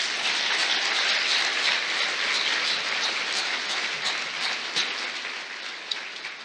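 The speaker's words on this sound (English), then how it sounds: "let's give him a round of applause" Sustained, even applause from an audience at an opening remarks and awards session, a steady dense wash of clapping throughout with no voices over it.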